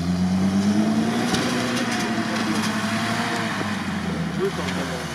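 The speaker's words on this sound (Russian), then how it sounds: "Ушел в дрифт." A car drifting off-road on ice, its engine droning and rising in pitch steadily under people talking inside the cabin, with a continuous loud rumble throughout.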